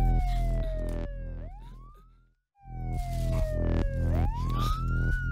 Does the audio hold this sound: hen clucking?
no